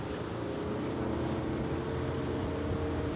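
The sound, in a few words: World boat 25 motorboat gliding at speed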